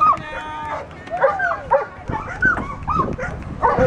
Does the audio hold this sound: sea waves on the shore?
no